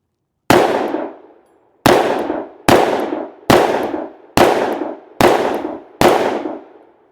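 Seven sharp gunshots from an FN 510 pistol firing 200 grain Underwood hard cast rounds, loud and close, spaced at an uneven, fairly quick pace with a short ringing decay after each.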